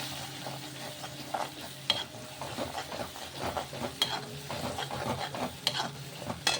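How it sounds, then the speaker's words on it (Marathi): Chicken curry with cloves and black pepper stirred in a hot pan, a steady sizzle broken by repeated scraping and clinking strokes of the spoon, close and fairly loud, with no talking. "चला बरोबर मिक्स करून घेऊ."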